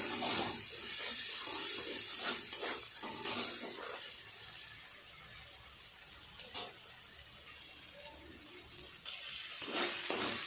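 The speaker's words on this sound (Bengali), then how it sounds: "অল্প একটু জল দিয়ে মশলাটা সুন্দর করে কষিয়ে নেব" Running water from a tap pours steadily for a few seconds into spice paste being fried for a Bombay duck fish dish, a close hissing flow that eases off, followed by faint kitchen clatter.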